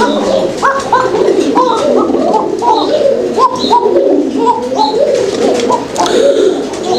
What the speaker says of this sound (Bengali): ইন্দোনেশিয়ান থেকে আসা রেড ইন্ডিগো কালারের এক জোড়া কোকা কবুতর